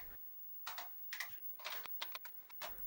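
A Sharp MZ80K computer keyboard with very sensitive switches is typed on in quiet surroundings, giving several irregular, crisp clicking keystrokes, some single and some in quick clusters, close and faint.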